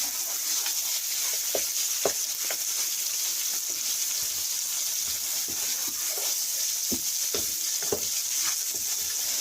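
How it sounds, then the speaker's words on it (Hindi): Mutton pieces sizzle steadily in a pot while being stirred, a continuous hot frying hiss broken by frequent spoon knocks and scrapes against the metal. "अब हमने गोश्त को भूनना है"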